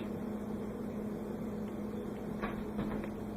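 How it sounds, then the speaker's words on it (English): An oven running after bake is pressed gives a steady low electrical hum with a constant tone, faint and even throughout, with a few light clicks near the end. "The oven must be turned on."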